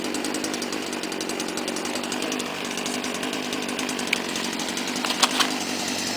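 A STIHL string trimmer engine runs steadily at a constant buzzing drone, close and loud, with a few faint clicks near the end.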